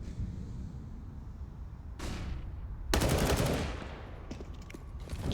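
Gunfire in Counter-Strike on the Overpass map during an ESL Pro League match: a short burst, then a louder rattling spray of rapid shots that fades into echoing tails.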